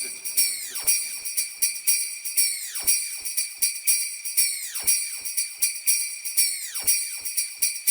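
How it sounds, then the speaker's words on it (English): Bright sampled chimes repeat in a steady looped pattern, each shimmering strike swelling and decaying into reverb, with softer ticks between them and no voices. "Other chime sounds I like to use in there, like this is part of a loop, but I sampled it"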